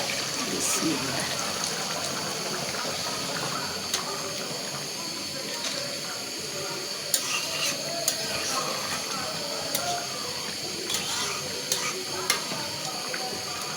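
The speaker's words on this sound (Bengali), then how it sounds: "লাউটা সিদ্ধ হয়ে গেছে এখন আমি পানি দিয়ে দেবো" Water poured into a simmering pot of bottle gourd curry makes a steady, broad hiss and sizzle with scattered light clicks, lasting throughout, while a voice talks over it.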